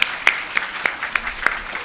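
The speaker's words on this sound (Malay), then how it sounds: "So satu tepukan kepada beliau." Audience at a university medical research meeting gives light applause, a sparse run of separate hand claps at an uneven pace, moderately close and without talk.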